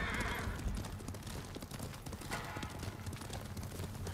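Galloping horse hooves in Ghost of Tsushima beat in a quick, steady rhythm, with rumbling ambient noise underneath and no talk.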